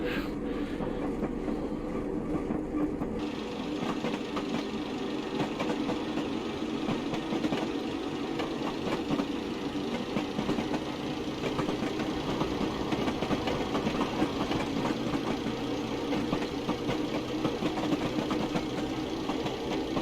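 Class 111 diesel multiple unit in Train Simulator Classic, running between Bournemouth Central and Weymouth: a steady, loud diesel engine drone with a rattling mechanical knock, sustained and close throughout with no speech.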